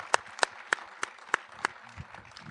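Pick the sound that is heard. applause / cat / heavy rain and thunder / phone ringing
applause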